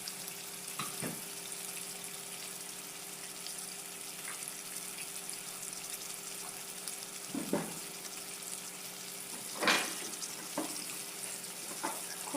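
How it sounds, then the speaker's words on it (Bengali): Basa fish pieces fry in a small amount of oil, making a quiet, steady sizzle with occasional louder spatters and pan clinks, and no voices. "খুবই সামান্য তেলে ফ্রাই হয়ে যাবে"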